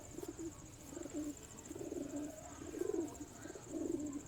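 Pigeons in a crate coo softly in repeated low, throaty phrases, several birds close together in a quiet, enclosed space.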